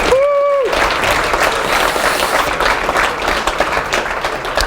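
A conference audience applauds loudly at the end of a Python programming talk, a full and steady burst of many hands clapping, preceded by a brief whistle-like tone at the very start.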